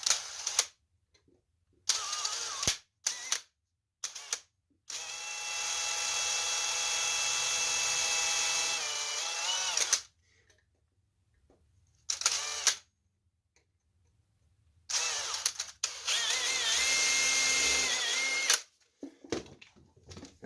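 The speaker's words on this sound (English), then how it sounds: "drill two small 1/16" holes" A power drill bores two small 1/16-inch holes into the wood of a Duncan Phyfe pedestal: a few short whirring bursts, then two sustained high-pitched runs of about four seconds each, separated by silence, close and clear.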